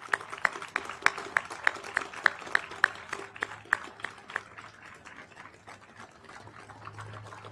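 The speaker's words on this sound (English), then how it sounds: "Please join me in a round of applause." Audience applause at a university memorial retreat ceremony honoring Gold Star families, starting as distinct sharp claps that blend into a softer, thinning patter. A steady low hum runs underneath.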